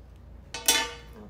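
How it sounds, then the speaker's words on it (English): A sharp sanitized knife slicing through a Philodendron Pink Princess stem just above a node, a single quick crisp snip, close and fairly quiet against a hushed room. "I've got a sharp knife that I just sanitized with alcohol. And I'm going to try and cut at a 45 degree angle above"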